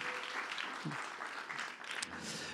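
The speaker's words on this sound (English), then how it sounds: "Well, deserve an applause, of course." Applause from a conference audience at a plenary meeting, a dense wash of many hands clapping steadily at moderate distance for the whole stretch.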